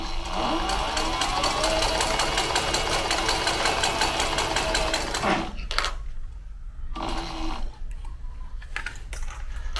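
Sewing machine stitching a backpack, a fast steady mechanical chatter of needle strokes for about five seconds, then stopping, followed by a few brief bursts and handling clicks nearby.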